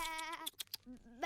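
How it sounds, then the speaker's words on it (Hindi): Sheep in the animated cartoon Little Krishna bleat in a short burst of wavering, nasal cries, quiet and brief, with no other sounds around. "इस बार मैं सुदामा की नाक के नीचे से ये सारी भेड़ें चुरा ले जाऊंगा।"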